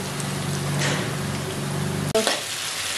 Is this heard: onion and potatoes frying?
yes